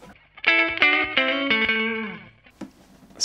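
An electric guitar with the amp's preamp drive turned up plays several ringing chords and notes, thick and saturated, then the sound cuts off, leaving a short pause and a brief noise.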